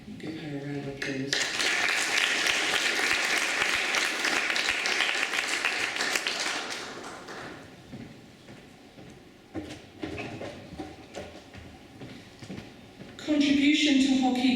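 An audience at a school sports awards event claps for a hockey award winner, a dense round of applause lasting several seconds, then sparse claps and bumps before a voice resumes over a sudden louder stretch.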